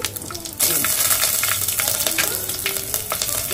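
Whole spices such as mace and cinnamon bark hit hot oil for chicken biryani, bursting into a loud, close, continuous crackling sizzle.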